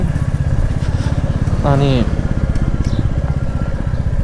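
A motorcycle engine runs at a steady, throbbing idle close by for the whole stretch, with a brief spoken word partway through.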